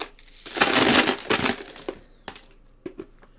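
A handful of quarters spilling and clattering onto a surface in a loud jingling burst, followed by a few scattered single clinks as the last coins settle.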